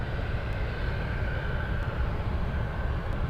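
Steady broadband jet roar from a Boeing C-17 military cargo plane at Anchorage airport, loud and continuous throughout with no voices.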